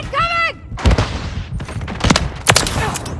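Bursts of gunfire from the video game Call of Duty: Modern Warfare III crack out in rapid clusters, close and loud, after a brief warbling electronic tone, with shouted callouts from game voices mixed in.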